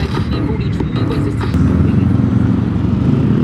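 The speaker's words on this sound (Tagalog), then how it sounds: "Uy, nice motorcycle oh." A minibike engine running near a mall, a close throbbing buzz with short revs early on that settles into a steadier, slightly louder drone, with faint voices in the background.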